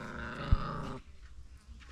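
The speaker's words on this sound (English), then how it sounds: "You know those dogs are very funny." Dogs at a home compound growl in a low, rough rumble through the first second, then drop to a quieter murmur with faint background noise.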